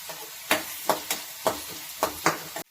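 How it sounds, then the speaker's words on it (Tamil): Onions and green chillies sauté in a pan with steady sizzling, broken by about six sharp scrape-and-stir strokes at a roughly even rhythm, close and fairly loud, with no voices. "வெங்காயமும் பச்சை மிளகாவும் வதக்கிட்டுருக்குறோம்"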